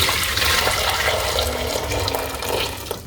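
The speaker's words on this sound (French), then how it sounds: "Je verse dans la petite casserole ici." Boiling water is poured from a pot into a small saucepan on the stove, a brief close rush of liquid lasting a few seconds with no voices.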